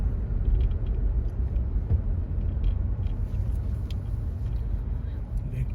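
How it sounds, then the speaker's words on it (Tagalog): A low, steady road rumble is heard from inside a car moving slowly through congested freeway traffic, a continuous engine and tyre drone with faint higher sounds now and then, and people talking over it. "Traffic is everywhere."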